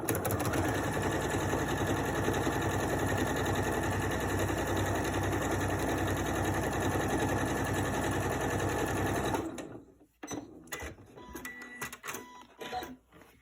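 A sewing machine stitches along a fabric hem rolled onto a flannel layer, running loud and steady for about nine seconds before stopping, then followed by a few quieter handling clicks and rustles.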